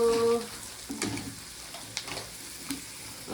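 Tomatoes frying in a hot pan give a soft, continuous sizzle at close range, with a few stirring scrapes and a short tonal beep at the start.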